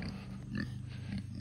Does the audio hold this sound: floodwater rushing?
no